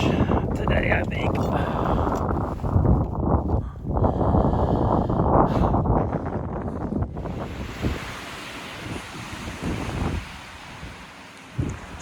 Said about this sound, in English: we're getting 60 to 80 mile per hour gusts